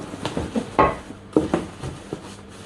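Non-stick NutriChef pots and pans being handled while unboxed, giving several close clanks and knocks of cookware at irregular intervals with softer rustling between.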